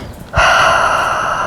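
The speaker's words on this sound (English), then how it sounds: "take a deep breath in" One close, deep inhalation through the nose and mouth, a breathy rush that starts abruptly and holds steady for just over a second, with no voices.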